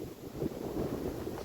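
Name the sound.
strong wind blowing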